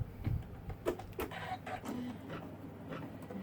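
An embroidery machine stitches colorway 7 on an in-the-hoop mermaid tail zippered pouch, giving faint, rapid, uneven mechanical clicks and thumps with soft motor whirring, heard alone and close.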